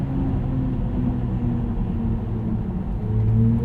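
Synthetic drive sound from a 2022 BMW iX xDrive50 electric car with its iconic sounds turned on: a steady low electronic hum with layered tonal drones, continuous and fairly loud inside the cabin, swelling slightly near the end.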